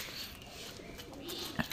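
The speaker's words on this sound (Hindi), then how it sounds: "चलो कबूतर को बुलाओ तो आएगा सब" Soft pigeon cooing, low and muffled, with a brief sharper sound near the end against quiet outdoor background.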